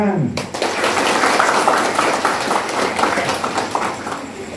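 Dense crowd applause at an Islamic party political rally in Central Java, a steady loud wash of clapping that starts abruptly and holds throughout, with voices mixed in.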